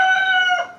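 A rooster at a shop in the Philippines, one kept for cockfights, lets out a loud, close, sustained crow that breaks off abruptly near the end.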